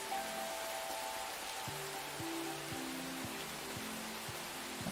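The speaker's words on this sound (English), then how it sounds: "Looks like the rain is like all over there and none of it's over here when the wind's blowing this hard." Steady broadband rain hiss from a game under development, a continuous wash of falling rain with faint tonal game sounds layered underneath, no voices.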